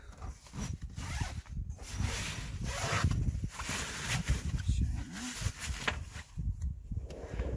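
A zipper on the side window of a rooftop tent is drawn open in several close, rasping pulls, with rustling fabric and handling noise between them.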